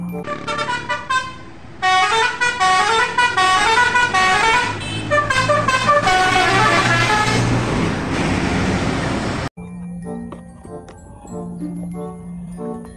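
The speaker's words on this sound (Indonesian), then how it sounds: "Bus Gapura Ning Rahayu." A Gapura Ning Rahayu bus blasts a loud, warbling musical horn close by as it passes, in bursts over several seconds before stopping abruptly, followed by faint traffic and a low intermittent tone.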